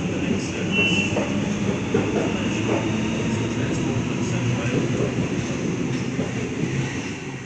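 A train rolls through Killara station platform with a steady, loud, continuous rumble and rail hiss that holds evenly throughout, close by and without pause.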